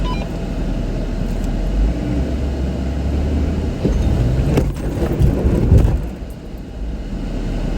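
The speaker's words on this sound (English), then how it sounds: "Mash on the brake. Start giving it gas." Off-road vehicle engine at a ranch rumbling at a low idle, then revving harder as the gas is applied, with crunching and creaking near the end, close and without talk.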